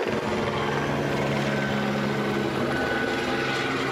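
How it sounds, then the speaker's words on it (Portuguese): A police helicopter flies over a residential neighbourhood of Tancredo Neves, a loud, steady rotor and engine roar that holds evenly throughout with no break. "Um morador gravou o momento em que um helicóptero da polícia sobrevoava o bairro de Tancredo Neves."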